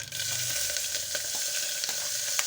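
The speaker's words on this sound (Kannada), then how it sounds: "ಕಾದತ್ ನೋಡ್ರಿ ಎಣ್ಣೆ ಈಗ ಹಸೆಕಾಯಿ ಹಾಕ್ತೀನಿ ನೋಡ್ರಿ" Green chillies hit hot oil in a pan and fry with a loud, constant sizzle, punctuated by small pops and crackles.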